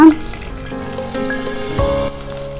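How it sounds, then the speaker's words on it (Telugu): Cumin, mustard seeds, fenugreek and dried red chillies crackle and sizzle in hot oil, a steady hiss with a short louder pop near the start. "దీంట్లో జీలకర్ర, ఆవాలు, మెంతులు తాలింపులో వేస్తున్నా."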